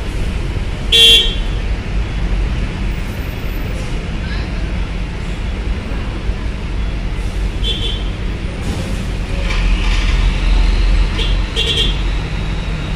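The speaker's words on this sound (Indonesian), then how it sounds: "di Pelabuhan Bakauheni padat nih untuk kendaraan truk." Steady, loud rumble of trucks and traffic packed into Bakauheni ferry port, with a few short horn toots breaking through near the start and again toward the end.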